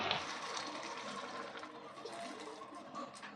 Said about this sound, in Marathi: त्याच्यामध्ये गरम पाणी घालायचं